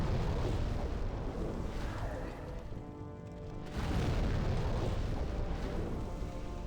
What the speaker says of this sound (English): The explosions look bigger than they are, the hitbox of them